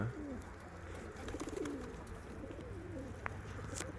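A strong racing pigeon coos softly amid a steady low background hum, with a few faint clicks and a brief sharp sound near the end; no one speaks.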